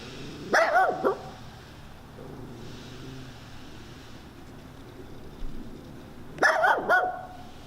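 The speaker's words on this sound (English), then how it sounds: "This dog consistently comes to my house and barks at me." A dog in a yard barks in two short clusters several seconds apart, fairly close, with quiet outdoor background in between.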